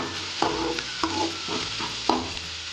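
Onions sauté in oil for a vegetable kurma and are stirred until golden brown. A spoon scrapes the pan in three or four distinct strokes over a continuous close sizzle, with no speech.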